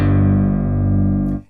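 Nord Electro keyboard imitating the low notes of a Yamaha CP-80 electric grand piano, with slightly out-of-tune strings: a single loud, sustained bass chord ringing alone for over a second before cutting off.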